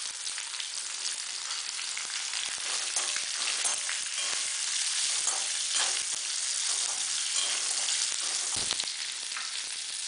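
Chopped onion fries with a little salt in a pan while making tomato sambar, a steady bright sizzling hiss with fine crackles and an occasional stir, heard close and continuous without talk.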